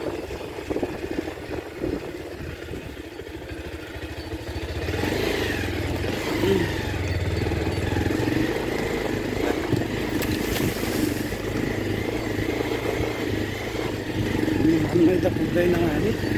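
A motorcycle labours up a steep uphill road, its engine droning and rising in a strain beneath continuous talking.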